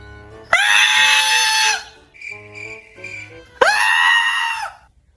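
Children scream in two loud, shrill, sustained bursts separated by a quieter stretch with a thin whistling tone, close by.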